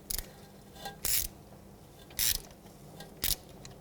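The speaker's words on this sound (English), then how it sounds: "You stick it in to these grooves and you have to twist and push in at the same time." Rear brake caliper piston on a 2009-2015 Toyota Prius being twisted and pushed back in with a tool, giving three or four short close ratcheting, grinding clicks separated by quiet pauses.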